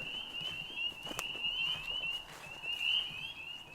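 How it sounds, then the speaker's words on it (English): Frogs call in a dense, steady chorus beside a slick, muddy creek bank, a continuous high trilling that holds loud and even throughout with no voices over it. "you heard those frogs that were deafening just a second ago"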